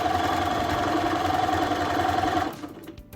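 A sewing machine stitching the pocket of a bowling-style bag, a close, steady fast mechanical whir that runs evenly and then stops abruptly near the end.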